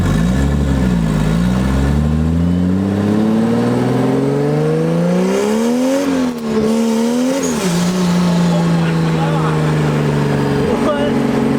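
Inside a 2JZ-swapped Honda Civic, the inline-six engine roars loudly, its pitch climbing steadily through the gears with a couple of brief shift dips, while people talk over the drone.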